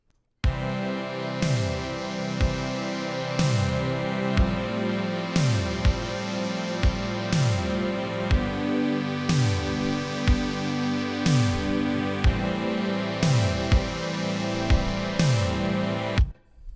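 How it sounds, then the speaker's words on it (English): A lush, sustained synthwave pad made in the Vital synth plays slow swelling chords with a soft rhythmic pulse, warm and dreamy, filling the space without any voices. "create an amazing, dreamy synth pad inside of Vital that sounds like this."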